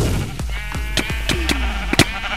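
Sheep in the Minecraft video game bleat several times in quick succession, loud and close, over a busy game background.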